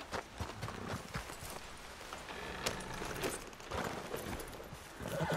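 Horse hooves clip-clop steadily in Red Dead Redemption 2, a rapid uneven patter at moderate distance running continuously with some jingling tack, no speech over it.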